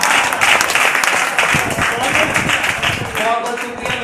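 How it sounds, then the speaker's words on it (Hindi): Audience applause honouring a poet at a society gathering in Noida, a steady wash of many hands clapping that fills the whole stretch at close range, with some crowd murmur mixed in. "बहुत बहुत शुक्रिया मेरे सम्मान में जो आपने तालियां बजाई"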